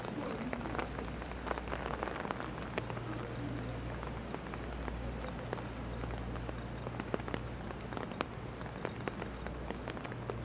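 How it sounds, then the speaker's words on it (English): Steady rain falls in an outdoor city setting in New York City, a continuous dense patter with sharp drops striking surfaces close by, alone without voices over a low hum. "It's worth coming to these places for rain."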